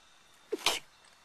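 A single close sneeze bursts out in one short, sharp blast over a quiet room, with a small intake just before it and no talking.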